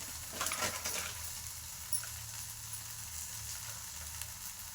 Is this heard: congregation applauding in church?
no